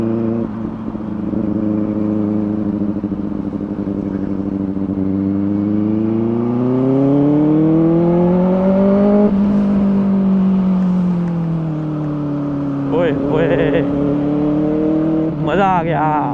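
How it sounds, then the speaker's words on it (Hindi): A Benelli 600i motorcycle engine revs hard at high RPM, its steady drone climbing in pitch, peaking, then easing back down, with a few quick throttle blips near the end. "थोड़ा सा ज्यादा RPM पे चला लेते हैं, लेकिन चलता है, कोई इशू नहीं।"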